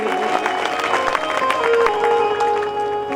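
Audience applause and crowd noise welcoming a guest at a Hindu religious discourse gathering, moderate clapping mixed with a murmuring crowd and music, heard from within the hall.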